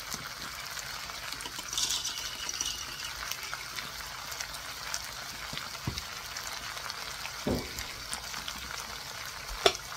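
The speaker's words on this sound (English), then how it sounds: "So as you saute it" Shrimp pad thai sautés in a pan with peanuts, a constant crackling sizzle over the whole stretch, with occasional clinks and scrapes of stirring and a sharper knock near the end.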